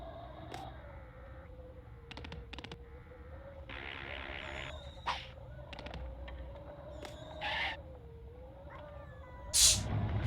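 A cat meows and caterwauls in a room over several seconds, its drawn-out cries rising above scattered clicks, bumps and game sounds, with a sharp hiss-like burst near the end.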